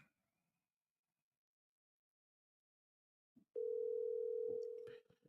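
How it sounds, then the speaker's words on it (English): An outgoing phone call gives a single steady ringback tone after about three seconds of near silence, faint and close, like through a phone speaker. "let me call this idiot"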